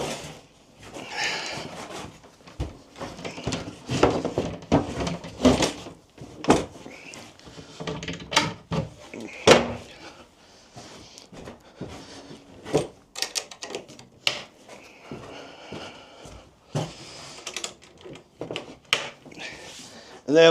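A folding plywood workbench with hinges and a couple of latches is swung open and locked into place, giving a busy run of close wooden knocks, clacks and latch snaps in uneven bursts, with occasional speech between them.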